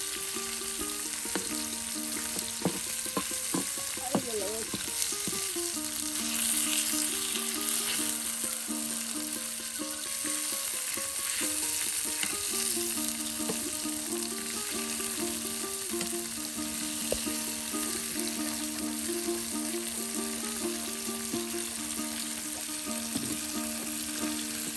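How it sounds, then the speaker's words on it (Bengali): Fish pieces frying with spices on a hot tawa, a steady loud sizzle running the whole time with occasional stirring clinks and a low hum in the background. "সুন্দর করে মশলার সাথে তাওয়ায় কিন্তু একদম সুন্দর করে মাছগুলো ভাজি করে নেওয়া"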